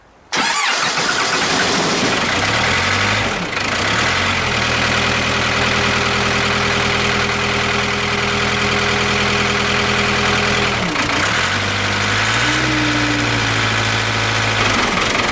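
A 1987 Case 580E backhoe diesel engine cranks with a freshly installed starter and catches in about a second, then settles into a loud, steady idle with a brief dip and rev-up near the end and no voices.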